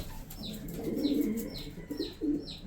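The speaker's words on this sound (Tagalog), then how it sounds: "Racing pigeon. Na-raise ko na yan." Racing pigeons coo in low, soft, repeated throaty phrases, joined by faint higher chirps at regular intervals, close by and unaccompanied by speech.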